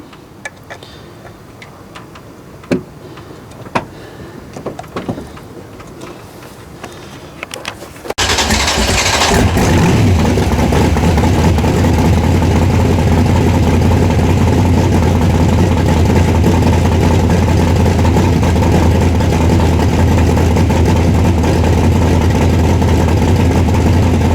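A carbureted V8 with a tunnel ram sits on a low idle, a loud, steady, droning rumble that starts abruptly after several seconds of faint clicks and handling noises, then holds unchanged to the end.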